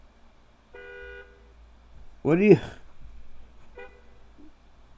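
A car horn from the video game Where in the World Is Carmen Sandiego gives two short synthetic toots, one early and one later, separated by a louder spoken voice.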